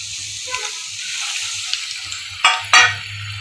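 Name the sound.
chicken pieces frying in oil, KFC-style fried chicken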